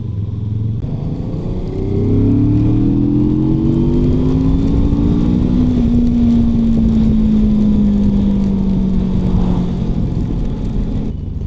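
A QJ Motors 450 RX adventure motorcycle pulls away and cruises, its smooth engine note rising through the gears then settling into a steady loud drone close by, with wind noise and no talk.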